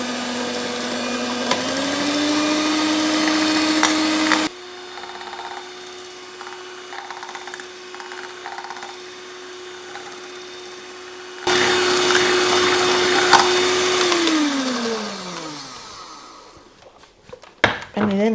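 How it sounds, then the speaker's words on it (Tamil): Electric hand mixer beating cake ingredients in a bowl, a steady motor whine running loud for most of the stretch, briefly quieter midway, then winding down as it switches off near the end. "2ஐயும் நாங்கள் இந்த மிக்சரால் நாங்கள் அடித்து எடுப்போம்"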